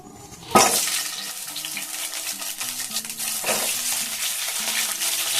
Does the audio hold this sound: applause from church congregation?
no